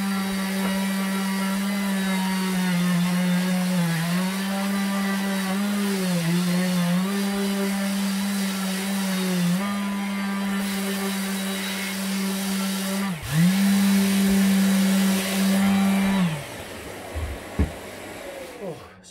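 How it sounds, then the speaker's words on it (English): An RTS 400 random orbital sander loaded with P80 sandpaper runs steadily while pressed hard into a woodworking gap, its hum dipping under load, close and loud, before it switches off and winds down. "all I've got here is just the RTS 400 random orbital sander, and I've got some P80 in there. I'm gonna sand it now"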